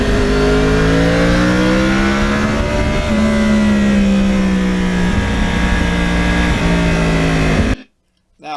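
A 2009 Yamaha R1 with a crossplane inline four-cylinder engine and stock exhaust revs loudly and up close, its pitch rising and falling in several sustained pulls before cutting off abruptly near the end.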